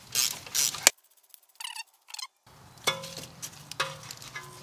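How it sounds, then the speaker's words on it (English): A 10mm bolt is backed off a bracket on a VW Scirocco with a ratchet, giving two short, quiet bursts of rapid clicking between other scraping and clanking from the work under the car. "get that 10 mil out of there to get the bracket out of the way"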